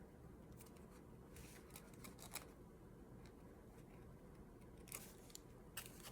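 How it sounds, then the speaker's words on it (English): Small scissors snip through paper specimen cards in a few quiet, irregular cuts close by, with soft rustling between them and no talking. "I just used my little tiny scissors to cut these out."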